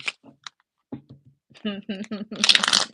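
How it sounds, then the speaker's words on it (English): A deck of playing cards is shuffled and tapped; a burst of riffling rustle comes near the end, close and fairly loud, after a stretch where a person talks over quieter card handling. "I tap the deck when I shuffle."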